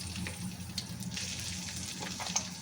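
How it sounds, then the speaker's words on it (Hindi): Garlic and ginger paste sizzling in hot oil in a pan while making chicken tikka boti karahi, a soft, even frying hiss heard close with a few faint clicks. "अब हम इसमें 2 टेबलस्पून, 1 टेबलस्पून लहसुन का पेस्ट और 1 टेबलस्पून अदरक का पेस्ट इसमें डाल देंगे"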